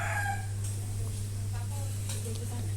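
Young chickens being weighed on a scale for sale by the kilogram, clucking and crowing over a steady low mains hum, with someone speaking throughout.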